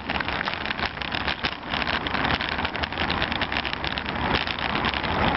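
A Y-SCOO electric scooter rolls along a road, giving a dense, continuous rushing and rattling noise from wheels and wind, steady and close throughout with no speech.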